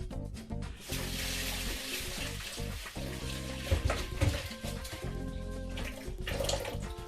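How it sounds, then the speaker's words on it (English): Red lentils being rinsed under running water give a steady splashing rush with small bursts of sloshing and clinks, close and continuous throughout. "So that's 1 cup of lentils in there, so just to give those a quick rinse."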